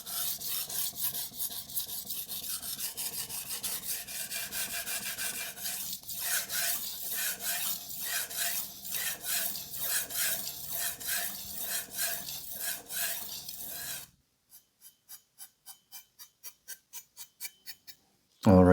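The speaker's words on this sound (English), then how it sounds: "Now I'll just gently remove the burr by just sharpening both sides without any pressure." A knife is drawn over the 1200-grit side of a Takayuki Shibata Bitey Finisher whetstone in steady, rhythmic rasping strokes, close and clear, then a short run of lighter, quicker strokes after a brief pause.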